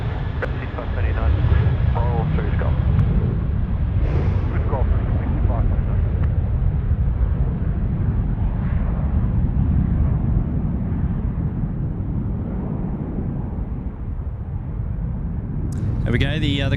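A Qantas Airbus A330 climbing away from Sydney Airport gives a loud, sustained low jet roar throughout, with a person talking over it.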